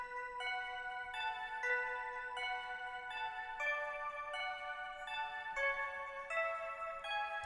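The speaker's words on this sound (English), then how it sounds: "It's just like some 80s type bells" Bright 80s-style synth bells chime in the pre-chorus of the song, ringing steady, sustained tones that shift in a stepwise pattern, soft and clean with no voices.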